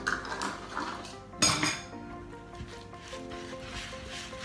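Butter is mixed into banana cake batter in a bowl, heard as soft scraping and clinking of a utensil against the bowl, with one louder knock; quiet, close, and without talk.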